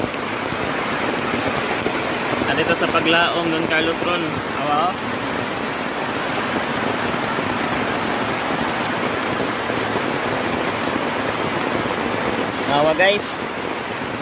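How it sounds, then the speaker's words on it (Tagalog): Heavy rain falls outdoors near a work field, a dense, loud, steady hiss that fills the whole stretch while someone talks briefly over it. "Ulan na sad guys."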